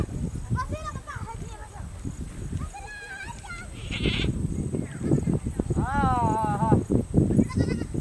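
A goat bleats in short, wavering cries amid busy outdoor chatter, with several people talking loudly around it.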